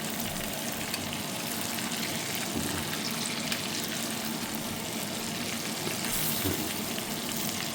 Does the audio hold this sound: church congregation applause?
no